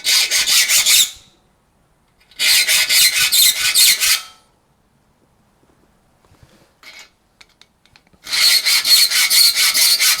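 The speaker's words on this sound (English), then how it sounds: "I have seen other blokes online sharpen them with a file" Close, rhythmic rasping of a file sharpening hand saw teeth in three separate bursts of rapid strokes, with quiet gaps and a few faint clicks between them.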